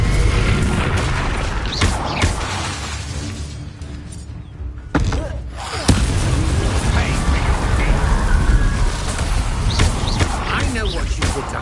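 Confringo blasting spells go off in Hogwarts Legacy as heavy booming blasts over a dense, noisy battle, with a sharp burst near the middle and voices speaking throughout.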